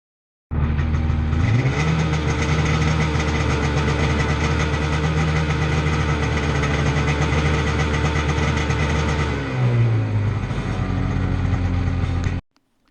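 Sea-Doo jet ski engine held at high revs around 5,500 RPM, a loud steady drone close by, with a brief dip and recovery in pitch near the end before it stops.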